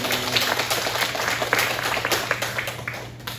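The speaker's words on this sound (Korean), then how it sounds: "박수 한번 하겠습니다." Church congregation clapping in welcome for a returning member during a Sunday service, a steady spread of many hands at moderate loudness with a low hum underneath.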